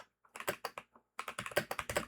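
Typing on a computer keyboard, close and fairly quiet: a quick burst of keystrokes, a short pause, then a denser run of rapid clicks.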